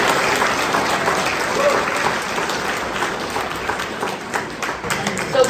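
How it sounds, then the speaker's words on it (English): A crowd at a hall of fame ceremony in Leicester applauding steadily, dense clapping throughout at moderate loudness with no pauses. "Let's give a nice round of applause to our MC, Jen."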